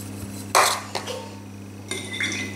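A spoon scrapes and clinks against a bowl while stirring an almond mixture for kalb el louz in small circular and back-and-forth motions, a few distinct knocks with quiet scraping between them.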